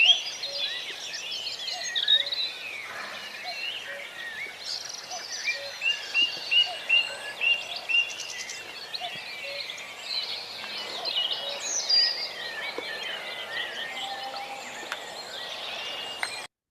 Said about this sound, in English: while we had the cuckoo and various little birds in the bushes there